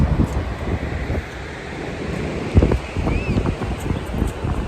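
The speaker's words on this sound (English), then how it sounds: "Sorry if it's windy up here, guys." Gusty wind buffets the microphone with low rumbling bursts throughout, loud and uneven, with a faint distant whine in the background.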